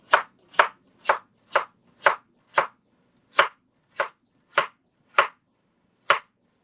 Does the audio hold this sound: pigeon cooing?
no